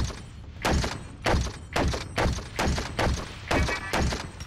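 A heavy machine gun fires in the video game Stranglehold, with about eight booming shots spaced roughly half a second apart, each a heavy thudding blast with a short decay.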